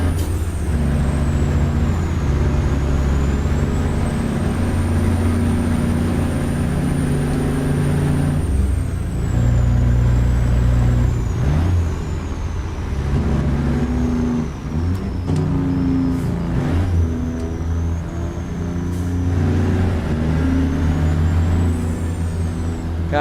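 A Detroit 14 litre truck engine in American Truck Simulator drones steadily and loudly throughout, a deep rumble with a rising and falling whine and occasional hissing, and nobody speaks.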